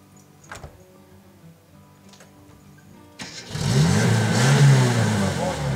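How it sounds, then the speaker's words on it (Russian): An all-terrain vehicle engine starts after a few faint knocks and clicks, then runs and revs loudly and steadily close by, with brief voices in the background. "Заведи и попробуй, будет тарабанить или нет."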